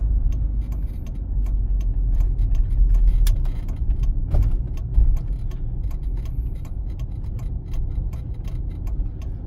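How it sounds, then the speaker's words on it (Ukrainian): A car's left turn signal ticks steadily while approaching a roundabout on a city driving-test route in Bila Tserkva, its regular clicks sitting over a constant low engine and road hum inside the cabin. "вмикаємо лівий покажчик повороту завчасно"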